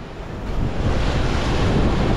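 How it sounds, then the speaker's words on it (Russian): Heavy surf off the Sri Lanka coast, a broad continuous rumble and wash of breaking waves mixed with strong wind buffeting the microphone, loud and close with no pauses. "Смотрите, смотрите, смотрите, какая волна."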